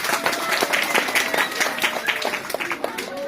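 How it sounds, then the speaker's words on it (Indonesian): A gathering at a church Sunday school event applauds for the youth, with irregular, lively clapping and crowd noise over a few seconds, partly mixed with voices. "Tepuk tangan untuk pemuda."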